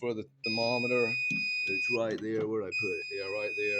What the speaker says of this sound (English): That's the alarm. That's the alarm.